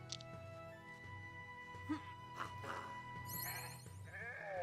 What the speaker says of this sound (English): let's go ahead and terrify this little sheep over here